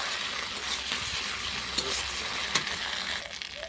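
Ginger-garlic paste fries in oil in a pan over a clay stove, giving a steady close hiss with a few faint clinks from stirring.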